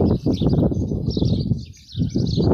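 Sparrows chirping near a field of millet, a dense, steady chatter of small bird calls throughout with a short lull near the end, close and moderately loud.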